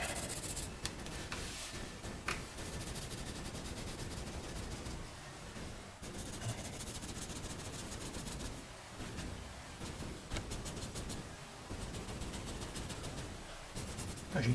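Yellow felt-tip markers scrubbing back and forth across paper, a steady dry rubbing that runs close and continuous throughout with small pauses.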